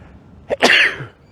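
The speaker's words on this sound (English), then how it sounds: "I'm about to sneeze." A single sharp human sneeze, close and loud, with a quick intake of breath followed by a burst, heard alone without talk.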